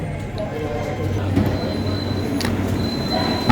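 Mumbai Metro Line 3 train carriage in motion, a steady low rumble and rolling hum filling the cabin, with a faint tonal whine and someone talking over it.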